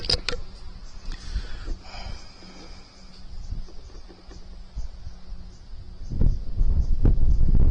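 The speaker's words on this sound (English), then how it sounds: "I'm actually waiting for the wind to die down because it's blowing the table." Gusty outdoor wind buffets a table and the microphone at an air rifle shooting spot, low rumbling rushes that swell and ease, growing loudest toward the end, with faint rustling and no speech.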